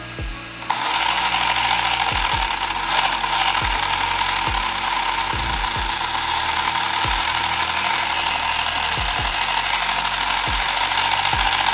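Rlaarlo X12S RC car running on its motor, giving a steady electric whir for about eleven seconds, punctuated by repeated sharp gear-like clicks as it drives and reverses; no one speaks.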